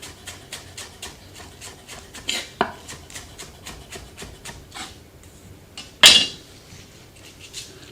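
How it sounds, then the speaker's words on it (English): Spring onions chopped on a board with a knife, a quick run of light even taps, then a few scattered knocks and one sharp clatter, close and alone with no voices. "So we're going to chop those while the pan's coming to the heat"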